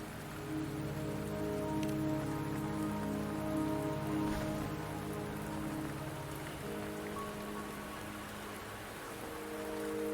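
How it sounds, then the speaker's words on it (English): Steady rain patters over a surface in the video game Wuthering Waves, a dense, even hiss lasting throughout at moderate level, with soft tonal background music beneath and no talk. "The rain won't last much longer."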